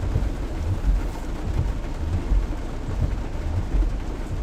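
Steady rain mixed with low, rolling rumbles of thunder during a Friday evening thunderstorm, a continuous dense wash of sound with deeper swells throughout and no voices.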